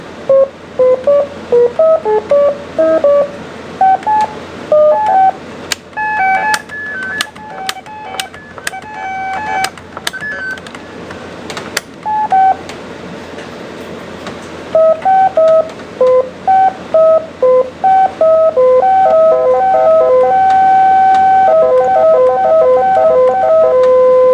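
A circuit-bent Casio keyboard gives off beeping, glitchy tones: quick stepping melodic blips, sharp clicks and bursts of noise, then a steady run of warbling high notes near the end, with no talk.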